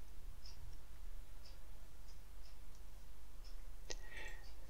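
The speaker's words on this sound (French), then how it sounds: "je clique ici" A computer mouse gives several faint, sparse single clicks over a quiet background, with one slightly louder click near the end.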